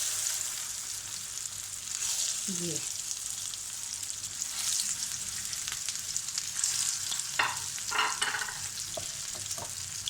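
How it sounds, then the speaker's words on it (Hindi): Shami kababs shallow frying in oil over a slow flame give off a steady, fairly soft sizzle and crackle, with a few brief clinks and scrapes from the pan. "इसे स्लो आंच पे फ्राई करना है"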